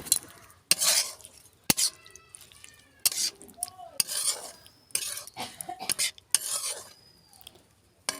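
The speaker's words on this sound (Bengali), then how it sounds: "আলু দিয়ে বেশ ভালো করে নেড়ে ছেড়ে নিলাম।" A spoon stirs and scrapes potatoes through fried spice masala in a pan, giving irregular metallic clinks and scrapes over a soft sizzle, with a voice talking in between.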